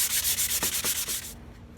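Wood is hand sanded with 220 grit sandpaper, without a block, in quick rhythmic back-and-forth strokes, about six close scratchy rasps before the rubbing fades to a softer, quieter scuff.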